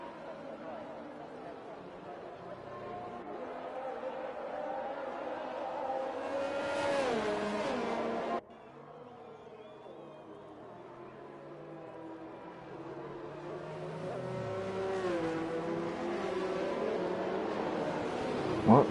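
F1 2021 race cars running behind the safety car in a video game at the Belgian round, engines droning and shifting pitch steadily throughout, with a brief cut midway, mixed under ongoing commentary chatter.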